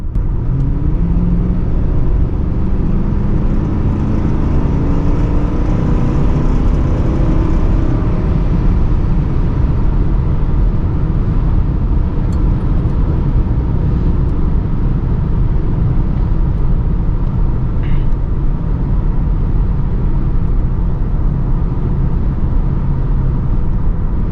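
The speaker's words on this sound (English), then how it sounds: "now we'll put the pedal to the floor and let you guys see the performance of this town car" A 1997 Lincoln Town Car Cartier accelerates at full throttle, its engine a loud, steady roar heard from inside the cabin, with dense road and wind rumble running unbroken throughout.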